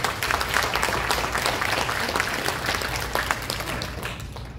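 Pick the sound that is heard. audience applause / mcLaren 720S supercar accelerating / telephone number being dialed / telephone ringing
audience applause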